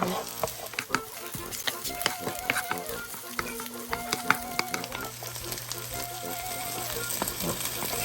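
Chicken pieces fry in two tablespoons of oil in a pan, giving a steady close sizzle broken by repeated scraping and stirring clatters, with no voices.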